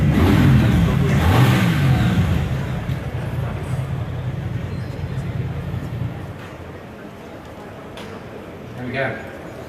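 A new Triumph Thruxton RS motorcycle engine revs at an EICMA 2019 launch event in Milan, a loud, sustained roar that slowly eases off beneath crowd noise and voices.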